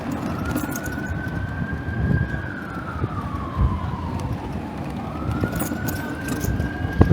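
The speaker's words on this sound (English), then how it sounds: "I don't know if you can hear them sirens" Emergency vehicle sirens wail around a seaside town, a rising and falling tone carrying over steady street and traffic noise, moderately distant and continuous.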